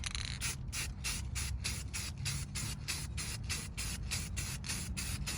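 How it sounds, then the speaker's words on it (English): Aerosol spray paint hisses onto brake calipers in steady, close bursts, pulsing on and off roughly every third of a second throughout with no talking. "So we back up a little bit and just spray it, really."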